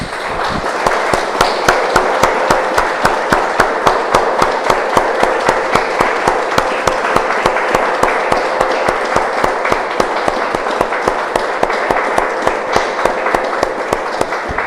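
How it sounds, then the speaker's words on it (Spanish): Church congregation applauding during a Spanish-language service, a loud fast run of rhythmic clapping that holds steady for the whole stretch, close and alone. "Le damos un aplauso, hermanos, al Señor."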